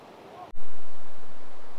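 River water flowing at a campsite by the river in Chattroo Village, a close, steady broadband rush that cuts in suddenly and continues, buffeted by wind on the microphone, with faint talk beneath.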